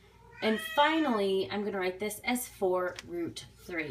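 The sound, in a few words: cat meowing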